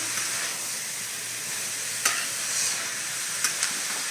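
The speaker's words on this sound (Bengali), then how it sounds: "আবার এটাকে ভালো করে নাড়াচাড়া করতে হবে" Raisins and dal fry in a pan with a continuous close sizzle and hiss, broken by a few sharp clicks of a spoon or spatula stirring against the metal, and no one speaking.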